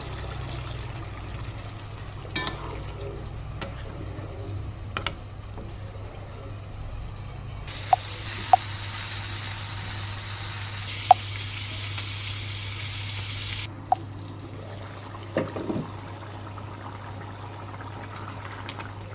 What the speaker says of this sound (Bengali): নিচে লেগে আসতেছে পর্যায়ে পানি দিয়ে দেবো